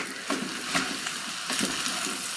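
Bratwurst fried rice with sausage and onions being broken up and stirred in a hot pan, a steady close sizzle and fry broken by several scraping, clattering stirring strokes, with no talking.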